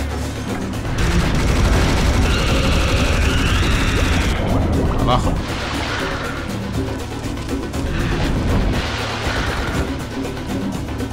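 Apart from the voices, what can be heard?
gunfire in video game Serious Sam HD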